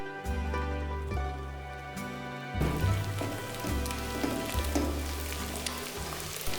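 Chopped carrots and beans sizzle in hot oil with scrambled egg in a pan for restaurant-style chicken fried rice, a steady close frying hiss with crackling pops and a sudden louder burst partway through.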